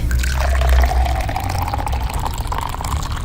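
Water poured into a glass, a steady close splashing stream lasting a few seconds over low background rumble.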